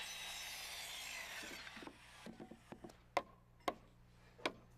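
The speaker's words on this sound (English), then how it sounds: "Here I'm cutting blocking for the medicine cabinet." Wooden blocking for a medicine cabinet being cut with a saw during wall framing: a soft rasping stroke at first, then a series of sharp wooden knocks and taps, quiet and close.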